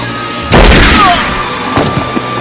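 A gunshot from the film Surf Ninjas: one sudden, loud bang with a rumbling tail that fades slowly, followed by a softer second thump about a second later.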